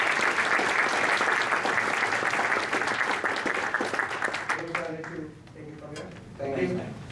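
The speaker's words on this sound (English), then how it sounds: "Round of applause for our panelists." An audience at an agile product-owner panel claps in a dense, steady round of applause for the panelists, which fades after about five seconds into someone speaking.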